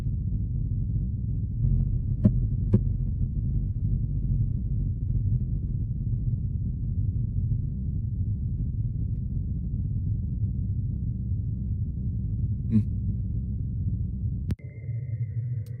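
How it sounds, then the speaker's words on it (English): A marsquake recorded on Mars, a faint, steady, very deep rumble that holds constant for most of the span, with a couple of brief faint ticks and an abrupt change near the end. "but this is the sound of an earthquake on Mars."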